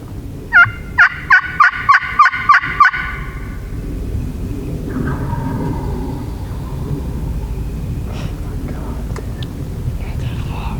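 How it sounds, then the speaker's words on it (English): A wild turkey gobbles in a Missouri creek bottom on public land: a quick, loud burst of rattling notes near the start, followed by quiet woods with a low rumble and faint whispering. "That was a different turkey."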